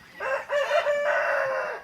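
A chicken in a farm pen gives a loud, drawn-out crowing call of nearly two seconds, close and clear over faint background noise, with no talking.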